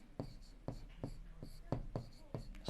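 A pen scratching on paper while writing out an equation makes a series of short strokes and scratches in uneven rhythm, close and fairly quiet, with faint speech-like sounds in the background.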